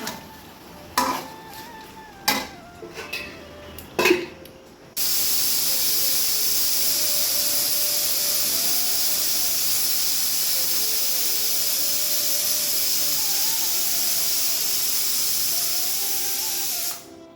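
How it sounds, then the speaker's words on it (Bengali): A few knocks and clanks, then a pressure cooker cooking meat releases a loud, continuous hiss of steam that holds steady for over ten seconds before cutting off. "প্রেশার কুকারে মাংসটা দিয়ে দিয়েছি"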